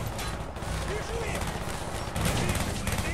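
Gunfire from a gun in Call of Duty Black Ops crackles in rapid, dense bursts with a louder stretch near the end, mixed with game noise while someone talks over it.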